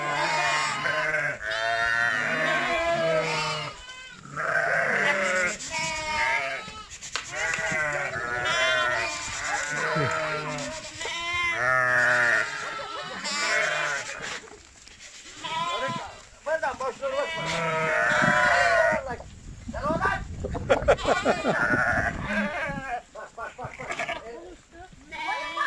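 Sheep and lambs bleat in a village flock at shearing time, many overlapping calls near and far, mixed with almost constant people talking throughout.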